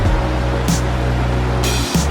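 Creek water rushes across a trail crossing among burned giant redwoods, a loud, steady, close hiss with a faint low hum underneath and brief brighter splashes.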